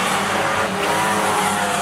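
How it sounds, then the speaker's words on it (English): A race car skidding sideways across the track at a speedway, a broad hissing tire squeal and scrub with engine noise, loud and sustained for a couple of seconds, no voices. "Langley in 88 had an issue and skated across the track."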